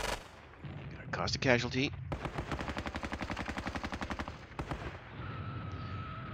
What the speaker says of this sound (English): Let's take this machine gun here.